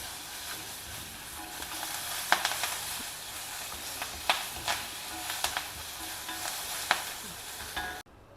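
Hing and curry leaves sizzle and crackle in hot oil, a steady hiss broken by sharp pops and spits scattered through, fairly close with no voices.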